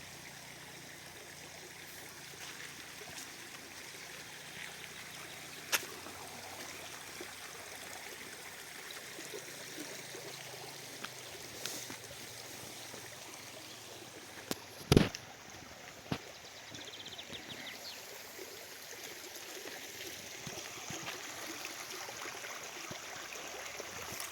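A river in Truskavets flows with a faint, steady wash of water and no voices, and a few small knocks and splashes stand out.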